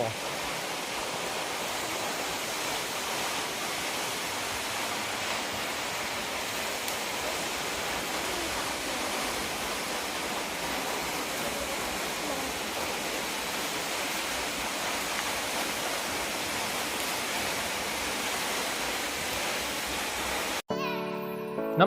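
A waterfall in Phang Nga, Thailand, roars as a steady, dense wash of falling water that stays loud and unbroken as the approach continues, with no voices over it until a brief change at the very end.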